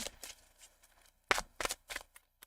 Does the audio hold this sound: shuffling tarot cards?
yes